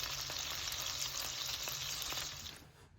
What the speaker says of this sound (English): While your hamburgers are cooking